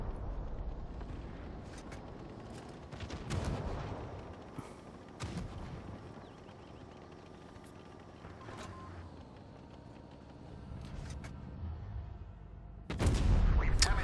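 Tank cannon shots in the Tanks Blitz video game, several sharp booming blasts spread across the stretch with a heavy final blast near the end, over rumbling game engine background.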